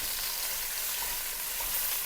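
A pound of ground beef browns in a pan, giving a steady loud close sizzle and crackle of frying meat with no talking.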